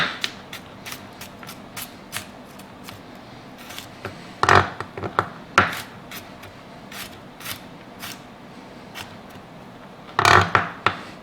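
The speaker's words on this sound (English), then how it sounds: "you basically just do this until you have really finely chopped garlic" Repeated sharp knife taps on a cutting board while finely chopping garlic, scattered and irregular, with a few louder clusters of quick chopping strokes; no talking.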